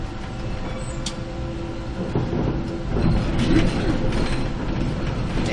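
A 105Na tram rolls along the rails with a steady low rumble and metallic squeal, coasting after braking, mechanical rattles rising and falling, close and continuous.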